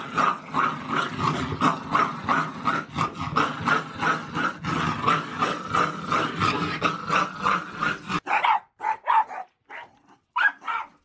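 Dogs in a cage growl and bark continuously for several seconds, loud and close, then break into a few separate short barks with gaps of quiet.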